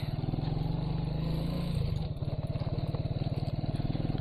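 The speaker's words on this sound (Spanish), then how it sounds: "la moto va patinando totalmente" A motorcycle engine chugs in a rapid, uneven putter close by, straining and skidding as it rides over a rough road.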